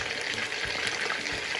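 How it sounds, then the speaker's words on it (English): Celery sizzles and fries in a pan alongside chicken adobo, a steady close hiss of hot oil with soft bubbling throughout. "We will just distribute them so it will get fried beautifully."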